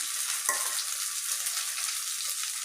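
Ginger, garlic and mustard paste frying in oil for a raw mango pickle, a steady hiss of sizzling with a brief scrape of stirring near the start, close and alone without voices.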